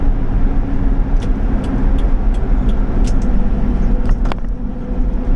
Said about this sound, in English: we're into third gear, and let's go ahead, third gear uphill, and I give it some gas